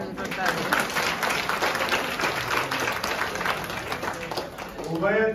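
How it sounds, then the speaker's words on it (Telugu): A crowd at a farmers' awards ceremony in Guntur claps loudly and continuously, a dense wash of applause with voices mixed in. "ప్రభుత్వాలకు వినబడేలాగా గట్టిగా చప్పట్లు కొట్టండి."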